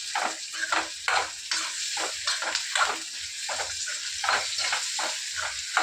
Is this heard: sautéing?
yes